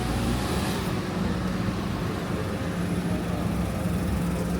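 A small Japanese car drives through a narrow alleyway in Shimokitazawa, Japan, producing a steady, even engine and road rumble at moderate distance with no talking.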